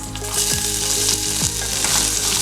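Onions and bay leaf sizzling loudly in a pan with seasoning, a dense continuous hiss close up with a few stirring knocks and no talk.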